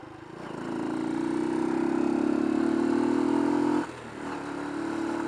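A motorcycle engine runs at steady high revs, about 6,000 RPM, a loud continuous drone that dips briefly near the end before resuming.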